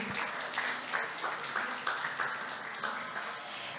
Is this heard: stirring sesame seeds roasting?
no